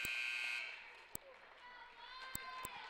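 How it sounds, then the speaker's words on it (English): A long, loud buzzer sounds at halftime of a high school girls' basketball tournament game, then fades into gym ambience with a few sharp thuds and squeaks. "that buzzer says that's the end of the first half"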